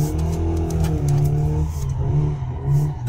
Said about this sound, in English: I'm just going to go straight into drifting here as much as I can anyway